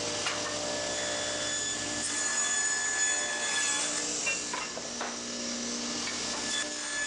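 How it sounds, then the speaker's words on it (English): Pallet wood slats fed past a table saw blade for trimming, a continuous loud whining rasp of blade against wood that holds steady across the cut with slight variations in pitch. "You can see as each piece goes past the blade, the amount that's getting trimmed off varies."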